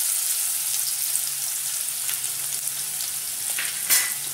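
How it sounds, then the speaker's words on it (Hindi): Steady sizzling of asafoetida, ginger, green chili and garlic tempering in hot oil, a continuous crackling hiss with a brief louder spit near the end, no voices. "इसका छौंक लगा दिया हमने,"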